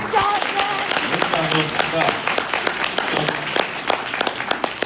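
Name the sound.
expo audience applause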